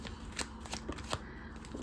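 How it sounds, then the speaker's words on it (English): Tarot cards are shuffled close up during a reading, a steady run of soft papery riffles and flicks lasting about two seconds, quiet and with no talking. "As always, we like to make sure we get a real good shuffle in."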